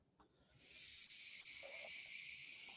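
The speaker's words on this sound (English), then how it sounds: "Okay, and I'll make one final pass with my scraper." A scraper drags across a waxed ski base, giving a steady, close, bright scraping hiss that starts abruptly and holds for a couple of seconds, with faint knocks underneath.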